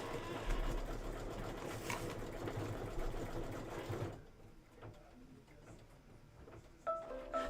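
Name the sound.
embroidery sewing machine stitching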